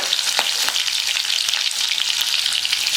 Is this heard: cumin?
yes